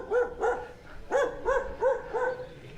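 A dog barks six times nearby in two quick bursts, each bark sharp and mid-pitched, with short pauses between, on a street in the Sutiava neighborhood of León, Nicaragua.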